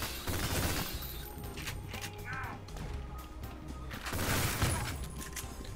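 A trusty revolver fires repeatedly at bandits in the game Ion Fury. Sharp shots and crashing impacts are mixed with game noise, and a voice talks at times.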